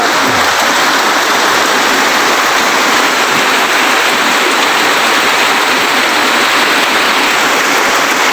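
Rain pattering on the leaves of farm plants, a continuous, close, uniform wash of drops that stays level throughout with no voices.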